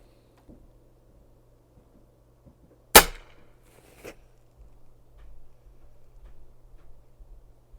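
A single sharp, close crack from a Diana XR200 .30 caliber air rifle, followed a second later by a fainter click, with otherwise quiet surroundings and a low steady hum.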